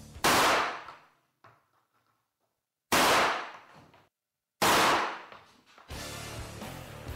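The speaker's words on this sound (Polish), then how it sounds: "kilka strzałów z breneki" Three loud, sharp shotgun slug shots fired at a Panasonic Toughbook laptop ring out with pauses between them, each followed by a fading echo, then a noisy rattling clatter.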